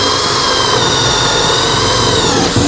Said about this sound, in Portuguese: Agora a broca chata de 16mm.